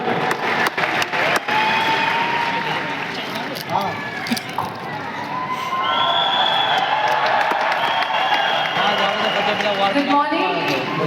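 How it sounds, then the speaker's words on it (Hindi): An audience at a Vestige ambassadors' event claps loudly and steadily for about eleven seconds, with scattered cheers. A voice speaks over the applause throughout. "एक बार जोरदार तालियां"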